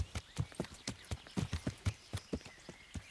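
Horse hooves clip-clopping at a steady trot while riding in the video game Kingdom Come: Deliverance, rhythmic close hoofbeats about four to five per second, moderately quiet with no talking.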